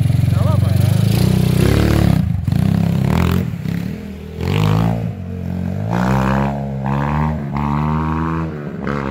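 Modenas Kriss 2 motorcycle with a titanium exhaust pulling a wheelie out of a corner, its engine loudly revving up and down in repeated surges, close to the microphone.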